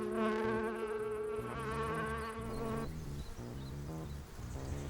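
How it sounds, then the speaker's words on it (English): A swarm of bees gathers at a dish scented with clove, a dense, close buzzing drone of many wings, loud and continuous, with layered tones that shift partway through. "Half an hour later, and the bees swarm."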